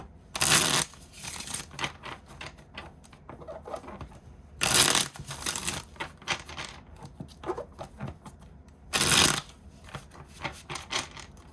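Three bursts of playing cards being riffle-shuffled, each a brief crisp rattling flutter, separated by quieter handling and light tapping of cards.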